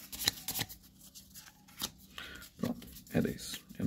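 A deck of playing cards from the board game Balde de Caranguejo being shuffled by hand, with several quick riffling and rustling bursts close up, mixed with a person speaking between them.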